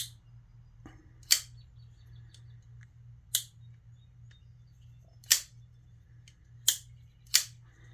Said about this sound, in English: Really like that positive click at the end.